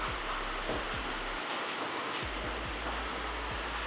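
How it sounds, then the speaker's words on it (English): Heavy rain falls outside in a steady, broadband hiss that stays even and continuous throughout, with faint low thumps underneath and no talk. "I don't know if you can hear, it is really raining outside."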